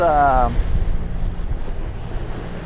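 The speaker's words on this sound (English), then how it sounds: "Seas are choppy" Choppy Caribbean sea waves wash and slap around a boat under gusting wind that buffets the microphone, a continuous rough rush after a brief tonal sound at the start.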